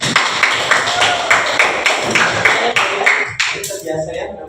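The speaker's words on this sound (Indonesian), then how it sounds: "Tepuk tangan untuk semua." A classroom claps in unison for a group, rhythmic synchronized claps close by in a steady beat of about two per second that breaks off near the end, with voices mixed in.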